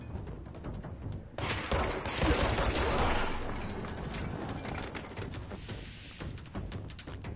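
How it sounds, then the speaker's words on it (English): Sustained gunfire in the video game Control, a dense fusillade starting after a quieter moment and continuing loudly with bursts and thuds. "is shooting at me?"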